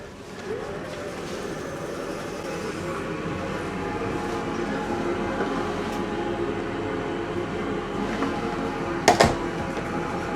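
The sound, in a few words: night train running from Lithuania to Budapest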